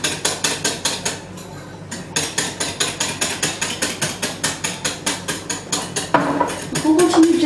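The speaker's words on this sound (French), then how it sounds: "Donc on continue de bien mélanger." Homemade body lotion is mixed briskly in a container, giving a steady, rapid run of close clicking and tapping strokes that pause briefly, then resume more heavily at the end.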